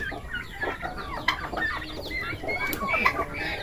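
Young turkeys calling in a farm pen, a cluster of close high peeping and chirping calls overlapping in quick bursts against soft background noise.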